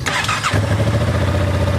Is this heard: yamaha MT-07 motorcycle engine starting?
yes